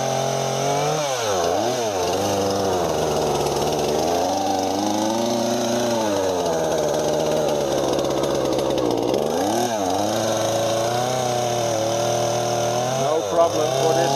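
A Husqvarna 236 chainsaw runs steadily after a cold start, its close, loud engine note wavering as the throttle dips and rises several times over roughly fourteen seconds.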